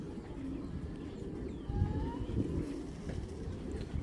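A Belgian racing pigeon coos softly in low, rolling murmurs, with faint chirps from other birds in the background over a steady low ambient rumble.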